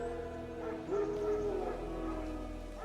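Wild dogs in The Witcher 3 growl and bark in a short burst, a yelping whine rising mid-clip over a steady low game ambience, moderately near.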